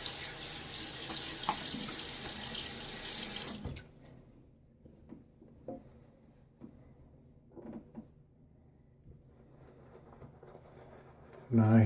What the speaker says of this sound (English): one little splash of water.